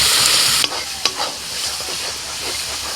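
Garlic paste frying with chopped onions in a pan, a loud, close, constant sizzle broken by a couple of sharp stirring knocks, no voices.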